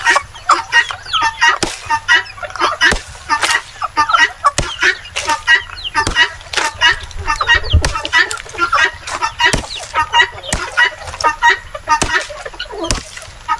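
Native chickens cluck close by while pecking at organic feed, mixed with a busy scatter of sharp clicks and taps.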